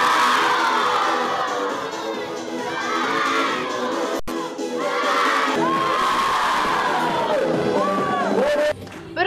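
Crowd of children shouting, cheering and squealing at a New Year celebration, a dense, loud, continuous hubbub of high voices with overlapping whoops.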